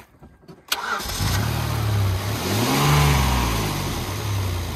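A Hyundai car engine cranks and starts after a brief quiet moment with a few small clicks, then runs loudly and close, its pitch swelling in a brief rev before settling into a steady idle.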